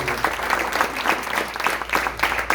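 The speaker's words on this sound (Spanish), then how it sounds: "Denle un fuerte aplauso al Señor" A church congregation claps in a loud, steady burst of applause for the Lord, dense hand claps filling the room throughout with no one speaking over it.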